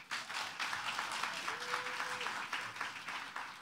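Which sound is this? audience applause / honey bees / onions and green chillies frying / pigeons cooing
audience applause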